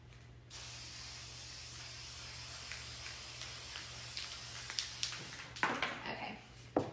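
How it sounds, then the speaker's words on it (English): Water misted from a spray bottle onto a 30 oz test tumbler, a steady soft hiss running for several seconds, followed by a few sharper bursts and handling knocks near the end. "I'm gonna spray the other one really quick, the test one for you guys"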